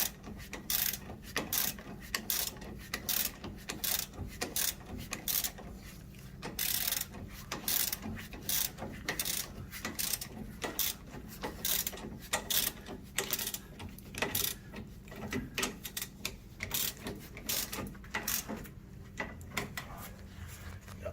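Ratchet wrench tightening a nut on a car's rear sway bar link, a rapid, close series of clicking strokes in irregular bursts throughout, with no talk.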